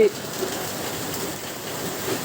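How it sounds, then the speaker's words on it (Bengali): Heavy rain in Meherpur, Bangladesh, falling as a steady, even hiss of dense drops on surfaces, continuous and moderately loud with no break. "দেখুন বৃষ্টি এত পরিমাণে বৃষ্টি হয়েছে"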